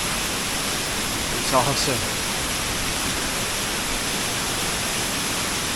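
Steady broadband rush of a waterfall in the Lake District fells, constant and loud, with a person briefly speaking over it.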